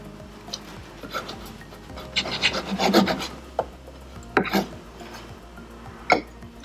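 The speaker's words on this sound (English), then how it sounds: "Here our avocado sandwich is ready. So let me cut it." A knife slicing through an avocado sandwich on bread, rasping crunches bunching into a louder burst midway followed by a few sharp cuts, close up with faint background hum.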